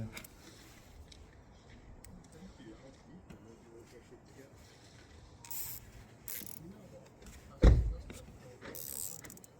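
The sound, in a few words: cable tie being tightened on Honda HRV lambda sensor cable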